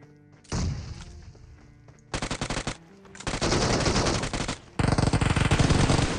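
Bursts of DP gunfire in a battle royale video game come in several loud rapid strings of shots, separated by short pauses, with the final burst running to the end.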